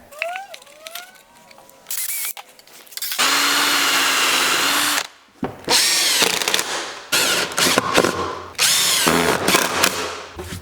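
A power saw cutting square across a board while building a birdhouse, loud bursts of ripping whine starting and stopping several times after a brief whirring spin-up, close by with no talking.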